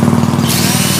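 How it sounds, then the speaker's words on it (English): A power drill bores a hole into a tree trunk to treat chlorosis, giving a steady, loud, close mechanical whine that continues throughout without pause. "Then we'll drill another hole 4 inches over and then up 3."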